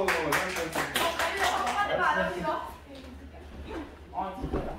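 First-year middle school students in a band wrestling warm-up class clap their hands together in a quick burst of sharp, rhythmic claps that fades out, with a voice briefly heard near the end.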